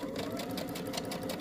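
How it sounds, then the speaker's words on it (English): Sewing machine stitching a back stitch along a 5/8-inch seam on a slip dress, a fast steady mechanical whir with rapid even needle clatter, close and alone. "Don't forget the back stitch,"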